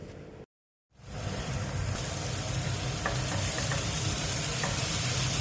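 Jackfruit chukka sizzles and fries steadily in a pan while being stirred, a dense continuous crackle that starts after a brief silent gap, with a few scraping stir sounds near the end.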